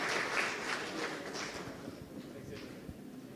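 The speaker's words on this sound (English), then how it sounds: "Please give a big round of applause to all of us once again." Applause from a workshop audience at an international conference, a steady spread of many hands clapping at moderate loudness that thins slightly toward the end.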